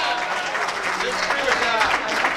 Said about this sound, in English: let's give New Hampshire a big round of applause